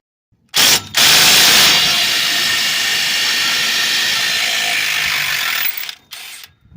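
A ratchet wrench loosens the 14 mm exhaust bolts behind the manifold on a 2004 Mazda MPV, giving a close, loud, continuous clicking run of about five seconds with a short burst just before and after it.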